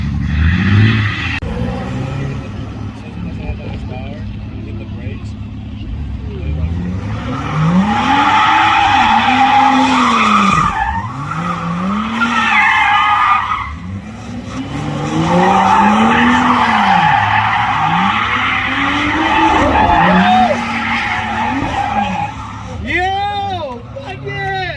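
A BMW E36 with an LS engine drifts sideways, its tires squealing in long rising and falling sweeps over a roaring engine, with repeated skids and excited voices talking and shouting over it.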